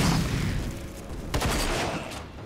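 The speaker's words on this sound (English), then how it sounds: "I'm headshotting him now." Gunfire in a video game during a headshot on an enemy, a dense burst of rapid shots and booms over continuous game noise, with a sharp louder crack midway.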